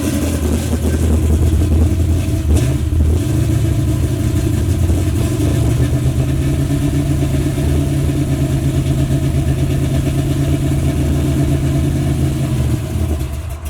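An engine idles loud and close in a boxy Chevy car, a deep rumbling, steady run with slight rhythmic pulsing and no talking over it.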